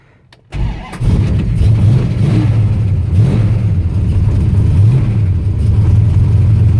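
A 1970 Plymouth Cuda with a 383 big block V8 and MSD ignition cranks briefly, then catches and settles into a loud, steady, rumbling idle with a few small throttle swells.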